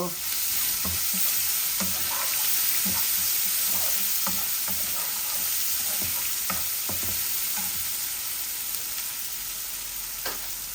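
Onions added a little at a time to hot oil beside frying koi fish, with a steady broadband sizzle and scattered sharp crackles and pops throughout, close and fairly loud, no voices.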